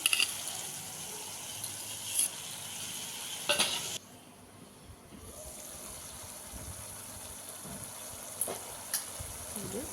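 Paneer frying in oil in a pan, a steady bright sizzle close by, broken by a few clinks of a spatula against the pan and a brief quieter gap before the hiss resumes.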